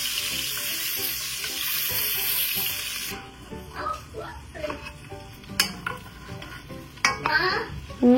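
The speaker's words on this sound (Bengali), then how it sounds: "এখন ডিমগুলাকে হালকা করে ভেজে নিচ্ছি।" Eggs seasoned with turmeric and salt fry in a pan, a steady broadband sizzle for the first few seconds, then quieter crackles with clinks of utensils or pans and a few sharp knocks, close and alone.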